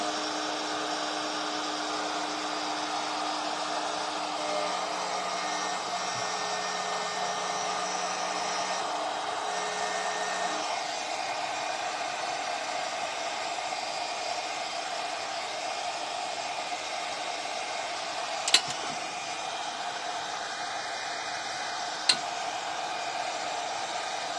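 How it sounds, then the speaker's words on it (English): A heat gun blows hot air onto WoodUBend moulding for a metal bucket craft, a steady, fairly loud broadband whoosh that runs for the whole stretch, with a faint tonal hum dropping away partway through and two sharp clicks near the end. "this is the heat gun that I swore I'd never use, but I need it"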